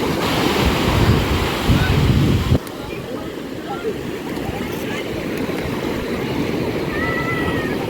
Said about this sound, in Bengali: এই যে সমুদ্রের জল